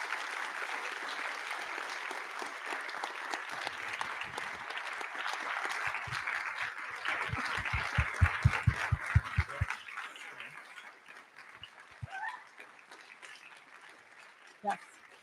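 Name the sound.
audience applause at a high school spring concert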